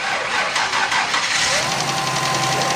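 A car engine cranks and catches right after an exhaust leak repair, settling into a loud, steady, rough running drone close by, with no voices over it.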